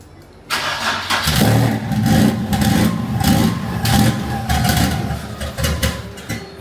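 A big single-turbo VQ37HR engine in a Nissan Patrol drift build cranks and fires up, then runs rough and loud with repeated uneven revving surges, close by and with no voices over it.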